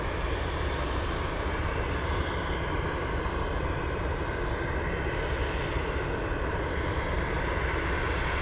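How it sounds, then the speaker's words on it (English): A Cargolux cargo aircraft roars steadily on runway 7 right at Anchorage airport, a loud, unbroken engine rumble with no pause throughout. "Let's go for the Cargolux. This one on runway 7 right."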